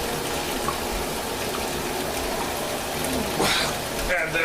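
Cold well water from a tap gushes steadily into a sink filling for an ice bath, a dense, continuous rush heard close up, with a brief splashier surge near the end.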